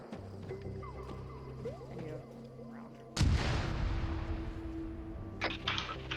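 A loud RPG launch in a military video game, a sharp blast at mid-clip followed by a long roaring whoosh and rumble over faint background voices and battlefield noise.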